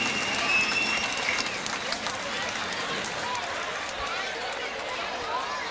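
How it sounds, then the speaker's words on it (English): Race fans in the stands applaud for the driver of car number 2 after he climbs out of his wrecked race car, a steady distant wash of clapping under faint announcer talk. "How about one more real loud round of applause for Brad Furr, the driver of car number 2."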